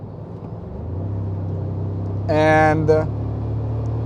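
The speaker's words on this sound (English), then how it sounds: "my time driving this new Tacoma supercharged hybrid on highway" A new Toyota Tacoma supercharged hybrid pickup cruising on a highway in sport mode, a steady low engine and road drone inside the cab, with someone talking briefly over it.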